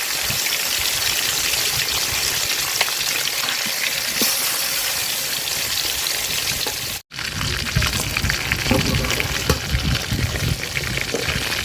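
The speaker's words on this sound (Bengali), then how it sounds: "পাতিল গরম হয়ে গেছে, তেল দিয়ে দিলাম মাছ ভাজার জন্য" Fish frying in hot oil in a cooking pot, a steady loud crackling sizzle that runs throughout with a brief dropout partway and then resumes, with no talking.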